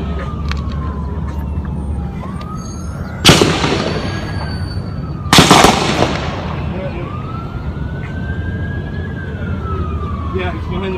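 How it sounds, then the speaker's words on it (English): Gunshots at a shooting: two loud, sharp bangs a couple of seconds apart, cutting through a wailing police siren and a noisy outdoor background. "We have shots fired."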